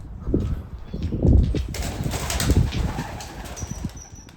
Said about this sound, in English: These damn birds are driving me crazy.